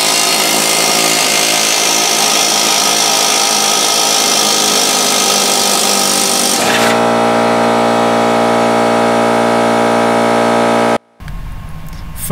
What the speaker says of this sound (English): I'm about to go get the air chisel and chisel this bad boy.